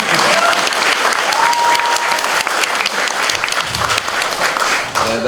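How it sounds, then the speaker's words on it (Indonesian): A theatre audience bursts into loud, dense applause for a performing theatre group, continuous clapping with some crowd noise, close and full throughout. "Kita beri tepuk tangan."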